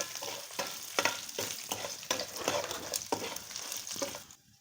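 Urad dal and dried red chillies fry in hot oil, sizzling steadily while a spoon stirs them in regular scraping strokes, close and moderately loud, with no voices.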